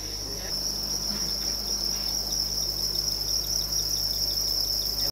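Crickets chirping at a farm raising them for feed, a dense, steady, high-pitched trill close by and continuous, with a low hum underneath and no talk.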